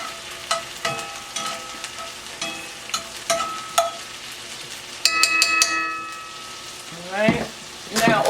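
Garlic paste is stirred in a frying pan with a utensil scraping and clinking in sharp, irregular knocks over a soft sizzle, with a brief louder burst of scraping midway.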